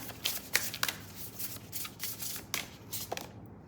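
Cards being shuffled by hand during a tarot-style reading, a quick series of soft riffling flicks and papery slaps, close and quiet, with no talk over them.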